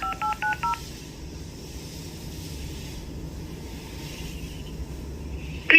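A quick run of six electronic keypad tones from a phone dialing out through a Grab driver app, evenly spaced, followed by a long stretch of low background hum and a brief chirp at the end.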